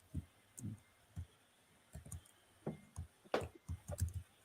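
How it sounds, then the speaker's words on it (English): Keystrokes on a computer keyboard as someone types out a banner, sounding as sparse, irregular clicks and taps at moderate distance, fairly quiet, with a small cluster of quicker strokes toward the end. "typing a banner"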